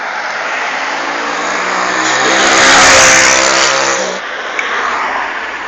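A Peugeot race car engine warming up roars loudly and close, swelling to a sustained peak of revs before dropping back to a rough idle.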